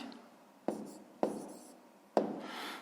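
Pen writing on paper during a 5th-grade maths exercise, soft close scratching with three distinct taps of the pen touching down, quiet and without speech.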